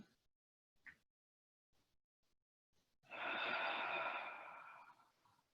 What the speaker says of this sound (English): Try a few deep breaths to release here, even if it means breathing out through your mouth.